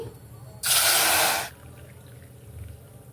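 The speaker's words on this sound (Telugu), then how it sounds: "ఈ కప్పుతో 2 కప్పులు వాటర్ వేసుకోవాలండి మనకు చింతపండు ఉడకడానికి" A short burst of water pours into a pot of tamarind for about a second, a bright rushing splash that stops abruptly, with quiet background before and after.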